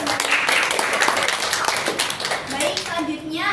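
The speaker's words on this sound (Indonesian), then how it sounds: "Tepuk tangan dulu sebentar." Classroom applause in a vocational school accounting lesson, a burst of hand clapping from students that fills most of the clip, with some talk and voices mixed in.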